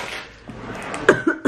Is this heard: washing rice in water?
no